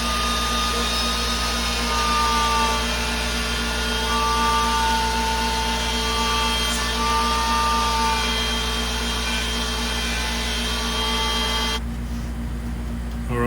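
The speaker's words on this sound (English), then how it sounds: "And there's me routering." Wood router cutting into a wooden board, a loud, steady high-pitched motor whine with a continuous cutting roar that holds for about twelve seconds, then the upper tones drop away as the cut ends, leaving a lower hum.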